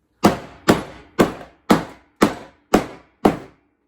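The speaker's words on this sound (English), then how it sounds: "So I'm going to use the hammer to try and pound them down" Hammer blows pounding together the wooden pieces of a bee box, seven sharp, loud strikes evenly spaced about half a second apart, each ringing out briefly, with no voices.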